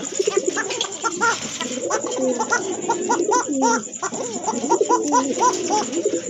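Fancy pigeons in a pet bird market coo close by in repeated throaty rolling calls, several birds overlapping in a steady busy chorus, with faint talk underneath.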